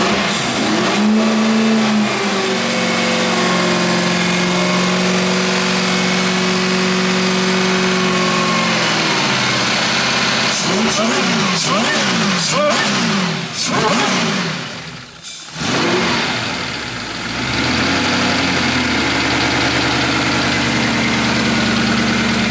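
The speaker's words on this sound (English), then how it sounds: "Lexus V8 with supercharger on it" A supercharged Lexus V8 making about 500 horsepower, fitted in a car, idles with a steady low rumble, then revs in several sharp rising bursts before settling back to idle, loud and close, with a little talk nearby.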